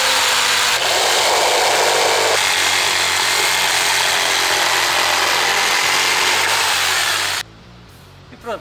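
A power saw cuts pallet wood with a loud, steady whine that holds for about seven seconds and then stops abruptly, leaving a quiet room with a small knock at the end.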